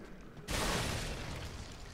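A hand grenade explodes in Resident Evil 4 Remake, a sudden broad burst that lands abruptly after a quiet moment and rumbles on with a dense, slowly fading roar.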